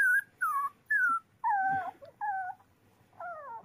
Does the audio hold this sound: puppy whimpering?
yes